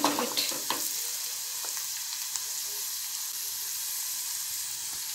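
Onion, turmeric and salt frying in hot oil give a steady, close sizzle throughout, with a few brief clicks of stirring near the start and no voices.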